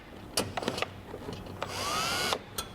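A power drill drives screws back into a Bronco Sport during a lift install, giving short trigger bursts and then one longer rising whir with a few clicks, up close.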